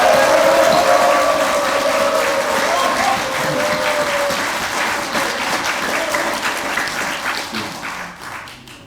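Loud, sustained applause from an audience opening the founding ceremony of a New Right treasonous-acts investigation committee, dense clapping that fades slightly toward the end, with some faint voices and a brief tone early on.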